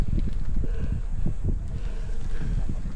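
Strong wind buffets the microphone outdoors, a steady low rumble with gusts, carrying dust and sand along a rough route; continuous and close, no voices.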